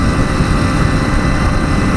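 At around 55 to 60 mph and 5,500 rpm in top gear, the Kawasaki 350 Four two-stroke built by Allen Millyard holds a loud, even engine hum under strong wind roar, with no talking.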